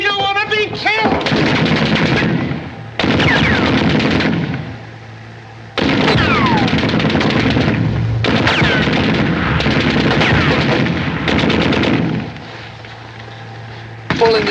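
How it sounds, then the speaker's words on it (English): Machine guns firing in a 1941 Laurel and Hardy wartime comedy, loud sustained bursts in several long stretches separated by brief pauses, with a voice shouting at the start. "Machine guns!"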